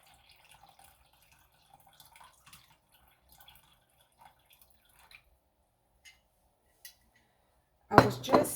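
Vinegar being decanted with solids pouring in: faint scattered drips and trickles, then a sudden loud splashing pour near the end.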